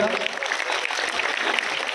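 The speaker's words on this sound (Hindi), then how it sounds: "जो पंक्ति समझ में आए तो ताली बजाइएगा" Applause from a village audience at an open-air poetry recital, a dense continuous patter of many hands clapping steadily throughout, fairly close and loud.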